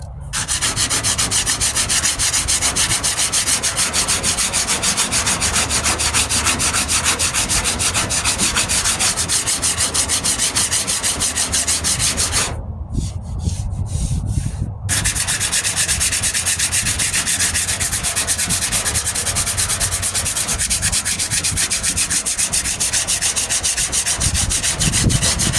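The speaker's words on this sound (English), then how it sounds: "with this Bondo fill, I tend to put it on thick so I can have something to work with as I sand down" Thickly applied Bondo body filler on a 1998 Ford Ranger passenger-side wheel arch is sanded by hand in a steady, continuous close rasping scrub, with a short pause midway before the sanding resumes.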